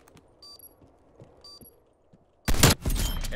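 A sniper shot goes off in Call of Duty Cold War Search & Destroy, one sudden loud blast with a rumbling tail, coming after quiet footsteps and faint high game beeps.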